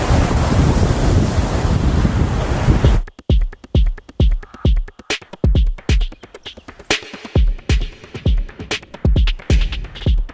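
Sea waves at Gyeongpo Beach in Gangneung, South Korea, with a few seconds of loud broadband wind roar, then a steady series of sharp, rhythmic slaps and washes of surf breaking close by.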